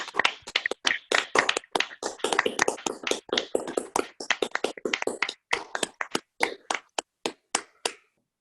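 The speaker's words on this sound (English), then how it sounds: "please give these new attorneys a round of applause" Scattered applause from a courtroom audience welcoming newly sworn attorneys at a bar admission ceremony: a small group's distinct, close hand claps that thin out and stop near the end, with no talking.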